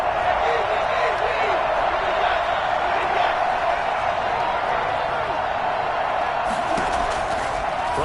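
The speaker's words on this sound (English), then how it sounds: "the crowd getting into it as we come up on a big 3rd down" A football stadium crowd at a Los Angeles Rams game roars steadily as a big third down approaches, a continuous wash of cheering and noise with scattered claps and thumps beneath.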